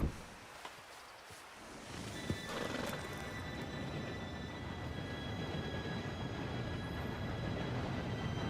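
A train approaches in the video game Red Dead Redemption 2, its dense rumble swelling steadily and growing louder and nearer, with a horse heard faintly early on.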